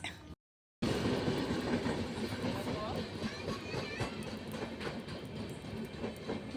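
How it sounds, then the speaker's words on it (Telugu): A long passenger train rolls steadily past close by, its wheels clattering in a continuous rumble, with voices talking over it. "ఏం ట్రైన్ రా ఇంత పొడుగుంది ఇది?"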